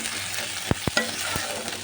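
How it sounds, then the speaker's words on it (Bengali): Spices frying together with dried shrimp for a Bangladeshi taro curry, a steady sizzle under a few sharp utensil knocks against the pan, close and fairly quiet, with no talking. "এই মশলাগুলোকে আমি চিংড়ি মাছ শুটকিটার সাথেই ভেজে নেব"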